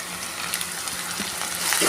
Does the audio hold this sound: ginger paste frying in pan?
yes